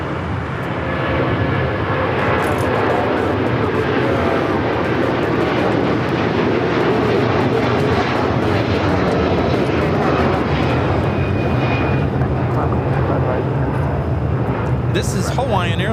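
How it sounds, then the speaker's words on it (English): A Hawaiian Airlines Airbus A330-200 bound for Honolulu takes off at LAX, a loud, continuous jet roar that stays full and close throughout, with voices talking underneath. "This is Hawaiian Airlines Flight 3 taking off to Honolulu on the A330-200."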